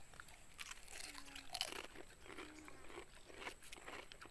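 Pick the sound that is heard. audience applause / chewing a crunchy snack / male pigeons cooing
chewing a crunchy snack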